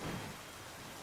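Steady in-game rain from Pokemon Scarlet Violet, an even hiss of falling drops with a low rumble at the start, quiet and continuous with no talk.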